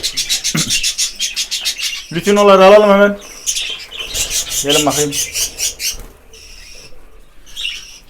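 Close, loud chirps and squawks from budgerigars, sharp bursts and warbling calls in irregular clusters, with a man clearing his throat and speaking Turkish between them.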